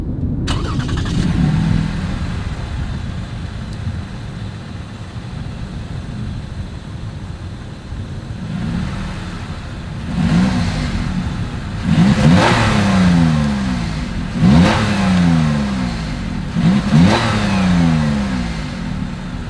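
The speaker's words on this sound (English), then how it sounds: "is that exhaust clip" A 2021 Lexus RX350 with dual exhaust and chrome tips idles steadily, then gets several sharp revs in a row near the end, each rising and falling back to idle.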